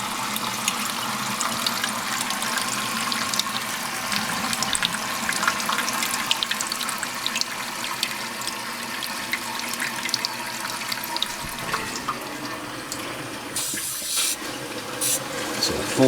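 A toilet tank fills through a Korky 528MP fill valve at full pressure, with a continuous close hissing rush of water that shifts briefly near the end.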